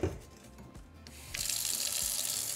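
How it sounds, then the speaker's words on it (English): Tap water runs into a cooking pot, filled with 6 quarts of water for homemade pozole rojo, beginning with a low gurgle and then rising to a steady, louder hissing stream once the flow opens up fully. "now I'm just going to fill up my pot with 6 quarts of water"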